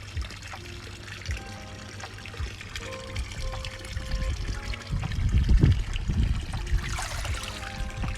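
Water trickles and pours as a jumbo Japanese koi is released into a 2000-gallon garden pond, a steady close splashing stream that swells toward the end with no talk over it.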